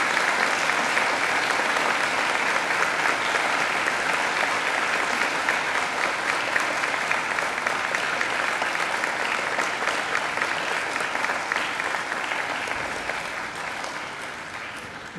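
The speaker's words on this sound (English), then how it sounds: "And now I invite you to give them a mighty round of applause." Graduates at a university graduation ceremony turn and applaud their families and friends, a dense, sustained roar of clapping from a large crowd that holds steady and eases off slightly near the end.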